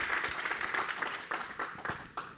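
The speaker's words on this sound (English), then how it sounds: "Please give yourself a round of applause." Audience applause at a data talk, a moderate patter of many hands clapping with a few sharper claps standing out, fairly distant and fading slightly toward the end.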